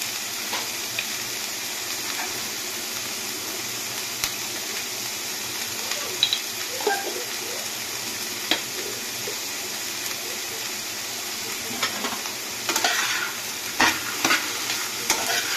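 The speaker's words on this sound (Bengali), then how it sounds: "এগুলোকে এবার আমি অল্প সামান্য নুন দিয়ে ফ্রাই করব।" Chickpeas fry with a little salt in a pan: a constant hissing sizzle with occasional scrapes and knocks of stirring, close and steady throughout, no voices.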